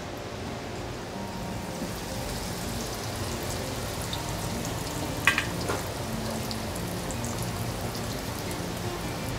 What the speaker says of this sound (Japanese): じゃあ牡蠣揚げていきます